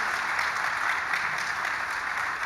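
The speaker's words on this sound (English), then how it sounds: "please join me in a great round of applause for our wonderful panel and all the perspectives that were shared today" Conference audience applauding a panel on the changing world of work and education, a continuous even burst of many hands clapping, fairly close and steady, with no talk over it.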